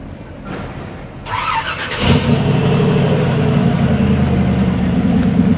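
A hand-built custom car with stainless steel exhaust and mufflers cranks briefly, fires up with a sharp bark, then settles into a loud, steady, rumbling idle close by, running on alone without talk.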